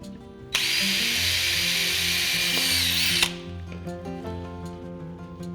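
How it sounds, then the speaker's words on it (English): A power drill bores a pilot hole through a wooden cleat for a mantel, a loud close whir lasting about three seconds, with music playing softly underneath throughout. "now I can take my drill and drill a countersink hole or a pilot hole"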